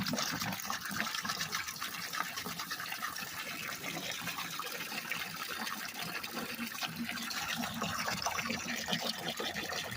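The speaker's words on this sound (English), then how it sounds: "we're going to pour muriatic acid into this bucket because we want it to mix fully" Muriatic acid is poured into a bucket, making a continuous gushing, splashing liquid noise that stays steady and fairly close throughout, with no talking.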